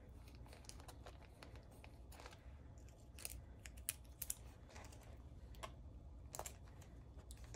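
Heat resistant tape is torn and pressed onto a sublimation photo puzzle, faint close snips, crinkles and tape rips scattered over a low background hum.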